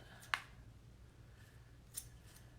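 Scissors trimming a Dollar Tree Halloween ghost door hanger give one sharp, close snip followed by a fainter second cut a moment later over quiet room tone.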